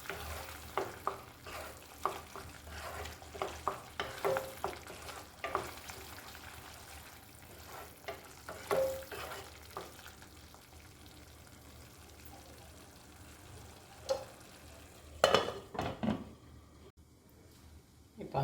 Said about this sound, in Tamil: இதில் நடுவில் ஸ்டர் பண்ணி விட்டுக்கலாம்.